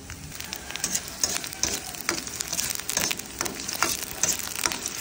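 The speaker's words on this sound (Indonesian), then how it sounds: "Goreng sebentar bawang pre." Chopped leeks sizzle briefly in a hot pan, a steady crackling fry with occasional stirring scrapes, close and clear with no voices.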